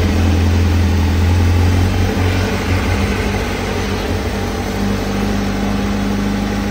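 A Honda CBR1000RR-R SP superbike idles close by, a steady, loud, low hum that holds an even rhythm without revving throughout.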